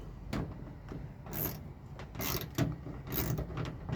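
A ratchet tightens a bolt on a Ford F150 mudflap, making bursts of close clicking and metallic scraping in short, uneven runs over a quiet background.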